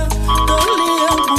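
Phone ringtone on a call-in radio broadcast, a short electronic melodic ring with a steady tone, loud and close, alone with no talking.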